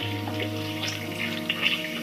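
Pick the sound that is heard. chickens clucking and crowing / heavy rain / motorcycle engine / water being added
water being added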